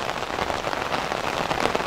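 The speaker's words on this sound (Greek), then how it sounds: "καταρακτώδης βροχή." Torrential rain pours steadily during a lawyers' association cup football match in Heraklion, a dense, unbroken hiss of heavy drops drumming on surfaces, loud and close throughout with no voices.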